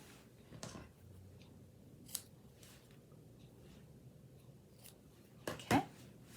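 Scissors trimming the tails of a ribbon bow for a handmade card, a few quick, quiet snips scattered through a faint, otherwise quiet background, with the last cuts slightly louder.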